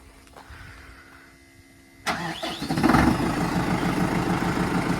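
A BASAK tractor engine cranks over and catches after a quiet stretch, then settles into a steady, loud diesel idle close by with no talking.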